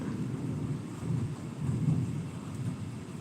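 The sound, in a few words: thunderstorm with thunder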